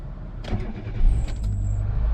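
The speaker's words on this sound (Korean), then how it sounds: "제가 이제 시동을 한번 켜보도록 할게요." A used Kia Morning car engine cranks briefly, catches and settles into a steady idle, with a faint high whine from the accessory belt after it starts.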